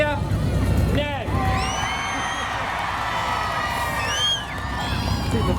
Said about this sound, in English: Viper to win. Cheer now.